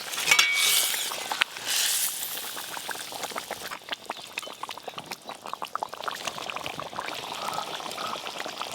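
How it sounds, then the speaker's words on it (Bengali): Fried catla fish pieces go into a boiling yogurt curd gravy: a loud splashing pour, then steady close bubbling and crackling. "গ্রেভিটা তো ফুটে গেছে, এবার ভেজে রাখা কাতলা মাছগুলো দিয়ে দেবো, ভেজে রাখা কাতলা মাছ।"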